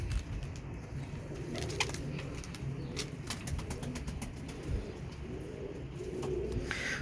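Several Teddy pigeons coo in low, rolling murmurs close by, joined by scattered sharp clicks and a brief flutter of wings.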